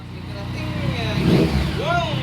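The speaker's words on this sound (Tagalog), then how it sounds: "nagpapalakas ng mga makina" Motorcycle engines rev among a riding group, a rising, roaring drone that swells and climbs in pitch near the end, with people talking loudly over it throughout.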